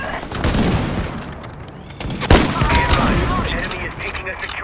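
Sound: gunfire in the video game Ironsight

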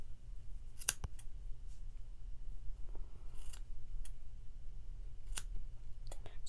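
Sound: scissors snipping the bottom of a yarn tassel

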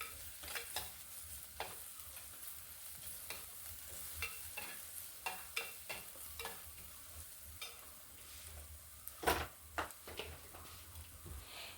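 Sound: sautéing ginger garlic paste in a pan for fish curry

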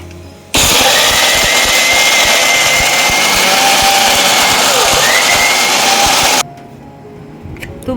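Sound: mixer grinder grinding ginger, onion and tomato into paste

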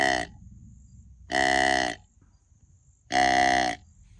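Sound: deer buck call from a game caller

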